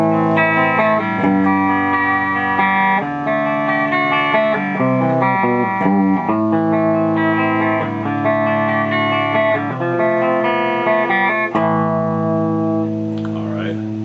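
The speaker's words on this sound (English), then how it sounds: "This is the clean channel of this Marshall." Clean electric guitar through the clean channel of a Marshall amp, strummed chords and picked notes ringing out steadily and loud, with no voices.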